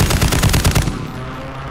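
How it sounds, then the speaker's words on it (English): Enemy gunfire in Call of Duty MW3 multiplayer, a loud rapid automatic burst of about ten evenly spaced shots, close by, then trailing off into quieter ambience. "somebody's shooting at me"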